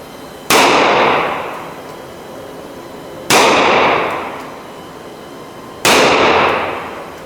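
Three loud, close gunshots from a Webley Mark V .455 "Bird's Head" revolver, evenly spaced a few seconds apart, each a sharp crack with a long echoing decay.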